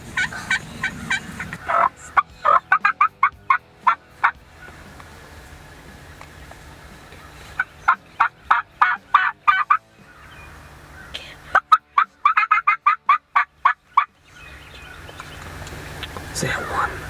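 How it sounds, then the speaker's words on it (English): Wild turkeys gobble in repeated loud bursts of rapid, rattling calls, separated by short quiet gaps and fairly close by. "There's one big gobbler."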